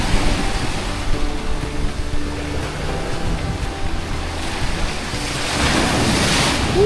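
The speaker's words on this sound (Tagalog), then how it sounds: "Lakas na ng alon." Strong ocean surf roars steadily at a pebble beach in Lobo, Batangas, with a continuous wash of breaking waves and some wind buffeting the microphone, swelling louder near the end.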